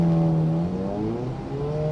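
A Lamborghini Gallardo LP550 engine pulls under throttle, its rising multi-harmonic drone sweeping upward in pitch, close and loud, with no voices.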